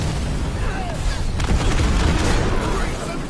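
An enemy structure blowing up in Halo Wars 2, a dense, loud rumbling blast with crackling debris that fills the whole moment, while battle noise and a radio voice sound over it.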